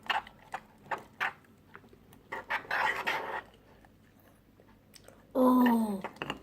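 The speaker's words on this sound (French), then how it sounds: "Excusez-moi pour le bruit du mélangement." Homemade slime made from a baby diaper is stirred in a container, giving faint, irregular wet clicks and squelching scrapes up close, followed by a short burst of speech.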